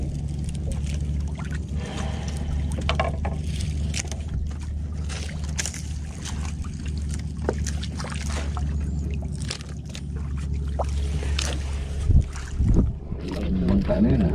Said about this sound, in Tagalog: Bangka na yun.